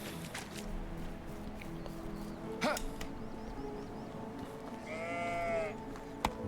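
Sheep in the medieval farming game Medieval Dynasty bleat over a low ambient bed, a short call midway and a clearer, longer wavering bleat near the end.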